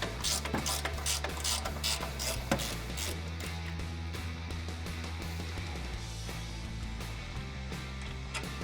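A ratchet clicks in quick repeated bursts, loosening bolts on a 2005-2021 Toyota Tacoma's suspension during a lift kit install, close and clear, with brief pauses between runs of ratcheting.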